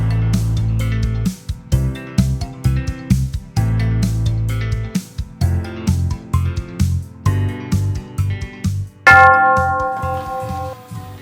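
Bright chiming tones play in a rhythmic musical pattern, ending with a single louder bell strike that rings out and slowly fades.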